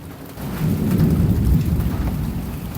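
Heavy rain pours steadily on a farm while thunder rumbles low and close, a full, loud wash of downpour with no voices.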